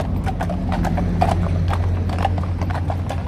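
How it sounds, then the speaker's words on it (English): Several horses clip-clop on hard ground during a street event, with a steady busy rhythm of hoofbeats over a continuous low rumble. "See them going around on the horses."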